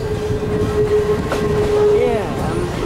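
Great Smoky Mountains Railroad excursion train rolling steadily along, a continuous rumbling ride with wheel squeal and a faint horn-like tone rising near the end, voices faintly beneath.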